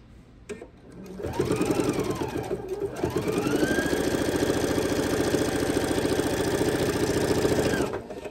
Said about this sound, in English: And just sew as slow as you need to keep everything lined up.